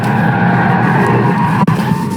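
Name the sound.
Tesla Model 3 driving on a track in Track Mode V2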